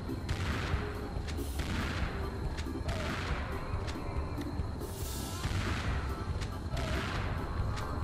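Gunfire in the Serious Sam 2 shooter, aimed at rhinos circling in an arena: repeated sharp, loud shots and booming blasts in rapid, irregular bursts over a dense, rumbling combat background.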